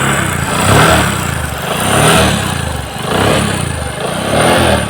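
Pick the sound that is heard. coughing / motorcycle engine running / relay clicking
motorcycle engine running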